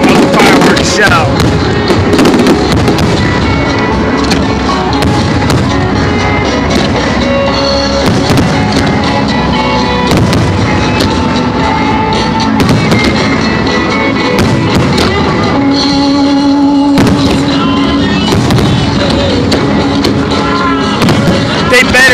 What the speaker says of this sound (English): also I want to do a review of the fireworks show.